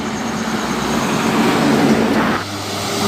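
An ALS intercity bus heading to Medan rumbles past on the road, its engine and tire roar swelling steadily, then dropping off sharply to a lower idle-like hum near the end.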